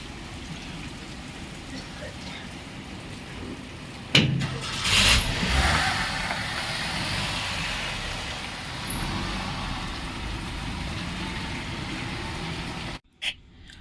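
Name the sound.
heavy rain falling, car nearby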